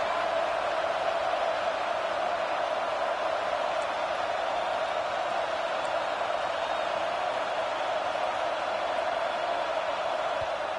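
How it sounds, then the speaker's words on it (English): A steady, unbroken roar from a football stadium crowd during an early-game Tulane matchup, a dense wash of distant voices and cheering that holds a constant level throughout. "Listen to the crowd energy here in the early going."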